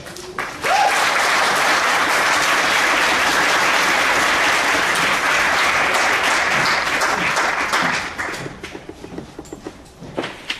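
A conference audience applauds as Julie Hunter is welcomed to the stage, loud sustained clapping that fills the room for several seconds and then thins into scattered claps before fading out.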